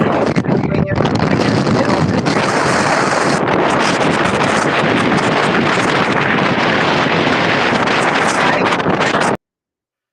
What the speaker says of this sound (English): I think they're going right into the wind right now